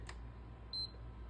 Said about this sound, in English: if you hold it down and then you hear 2 beeps, that actually just shuts it off